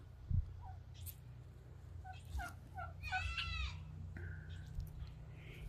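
Guinea fowl in a hen house give short, sharp, rhythmic calls and a brief rapid chattering burst over a steady low background hum, fairly faint and without talk.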